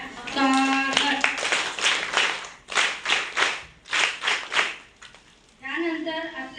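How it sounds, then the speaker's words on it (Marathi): Clapping at a Women's Day programme held at the Tondavali gram panchayat, in short bursts between stretches of harmonic voices and speech-like passages, fairly loud and close. "सरांसाठी जोरदार टाळ्या"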